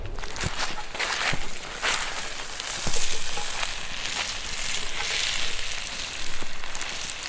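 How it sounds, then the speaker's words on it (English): Red onion and about four potatoes fry in vegetable oil outdoors while being stirred with a stick, a close, steady sizzle broken by irregular scraping and knocking sounds, with no clear talking. "We got a red onion, about 4 potatoes, a little bit of vegetable oil, stir with a stick"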